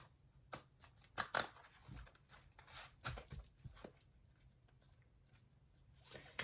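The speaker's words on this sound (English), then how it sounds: "One more shuffle and then we'll put it through." Tarot cards are shuffled with soft riffling bursts and light slaps, close and quiet, in short irregular clusters separated by pauses.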